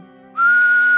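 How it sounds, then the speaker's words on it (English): A single sustained whistled note, clear and close, rising in after a brief lead-in of soft tonal music and holding steady to the end. "whistling,"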